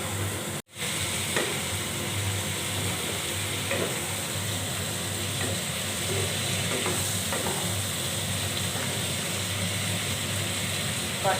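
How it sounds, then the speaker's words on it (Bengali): Pre-fried cauliflower florets and potatoes are tossed into a sizzling vegetarian spice masala, a continuous close frying hiss with soft stirring scrapes and a brief dropout near the start. "এবার আগে থেকে ভেজে রাখা ফুলকপি আর আলুগুলো আমি এখন মশলার মধ্যে দিয়ে দেবো।"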